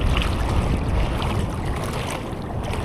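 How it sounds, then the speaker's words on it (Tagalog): Big sea waves surging and washing continuously at a fishing spot, a loud broadband rush with no pauses and no voices. "malalaki pa rin yung alon"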